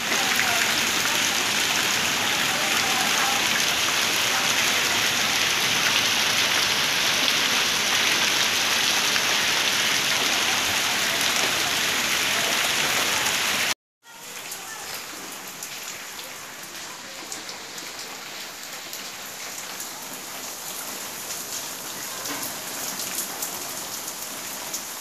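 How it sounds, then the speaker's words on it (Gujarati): Heavy monsoon rain pours down steadily in a town in Gujarat, a loud dense wash of drops that cuts out briefly midway and then resumes a little softer. "ધોધમાર અનરાધાર વરસાદે જામજોધપુરવાસીઓને ખુશ કરી દીધા હતા."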